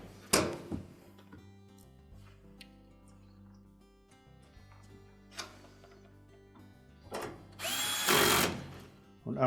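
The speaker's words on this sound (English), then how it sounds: "And install the retaining screws." A power drill drives retaining screws into a Whirlpool washer's cold water inlet valve in short, loud whirring bursts, separated by quiet ticks and clinks of handling.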